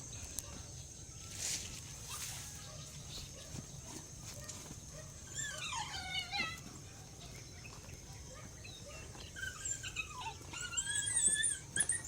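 On a farm with a fish pond being watered, a dog gives soft, high whimpers and yelps in short bursts, fairly faint against quiet outdoor background noise, with occasional light knocks.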